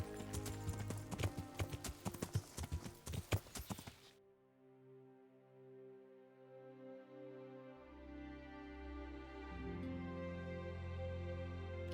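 Horse hooves clip-clop in the video game Kingdom Come, a dense run of quick loud strikes for about four seconds before cutting to a quieter humming backdrop with soft tones.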